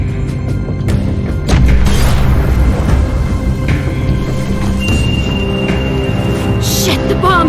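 A bomb goes off in The Walking Dead video game, a loud sustained boom with crashing debris and rumble filling the scene, followed by lingering ringing tones.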